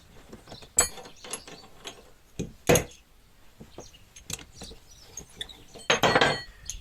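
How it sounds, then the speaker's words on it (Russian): A seized, corroded brass nut on an old tap being worked loose, giving a series of scattered metallic clicks, scrapes and ratchety creaks, with sharper bursts near the start, middle and end, close by and with no talk. "Хотя и закисшая, но гайка открутилась легко."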